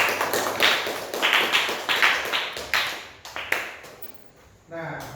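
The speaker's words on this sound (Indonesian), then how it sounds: "Aplaus sekali lagi untuk kelompok 3." A classroom gives a student group a round of applause: a series of sharp, rhythmic clapping bursts that rise and fade in waves, then die out into a short voice at the end.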